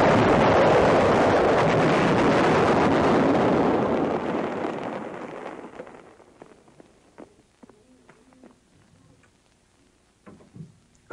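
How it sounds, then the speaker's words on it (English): A massive 914 mm Little David mortar shell bursting with an instantaneous fuse: a huge, loud, sustained roar that rumbles for about four seconds, then decays into a long fading tail with scattered faint distant thuds and debris. "All firing in this demonstration is with instantaneous fuse setting."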